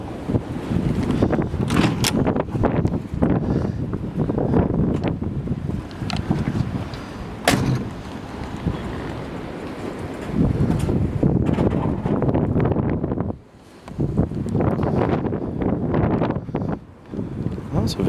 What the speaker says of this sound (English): Sorry for wind, guys. It's abnormally windy around here today.